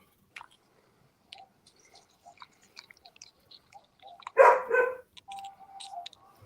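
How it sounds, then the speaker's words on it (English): A dog nearby makes soft clicks and chewing-like mouth noises, then one louder bark-like burst of about half a second and a thinner whine-like sound at the end. "look at Kayla's dog"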